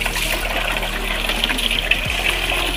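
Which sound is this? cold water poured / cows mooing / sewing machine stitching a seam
cold water poured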